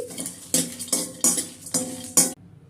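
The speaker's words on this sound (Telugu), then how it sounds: "జస్ట్ ఒక 1 మినిట్ స్లో ఫ్లేమ్ మీద ఫ్రై చేసుకోవాలి." Whole spices for Chettinad chicken masala dry-roast in a pan over a low flame with no oil. About five crisp scraping stirs ring out in an even rhythm, close by, with no talking.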